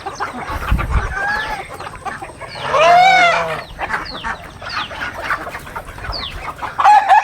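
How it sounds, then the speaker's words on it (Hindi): Chickens, hens and chicks on a free-range integrated farm cluck and call steadily and close by, with a rooster's loud crow rising over them near the middle. "जो मुर्गियों के बच्चे और मुर्गियाँ हैं"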